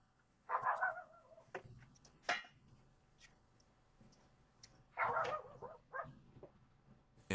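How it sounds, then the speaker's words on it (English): A dog behind a front door barking loudly, picked up by a doorbell camera: a few sharp barks in two bursts with quieter sounds between, slightly muffled and distant. "a loud dog's bark spooks her, and she quickly leaves"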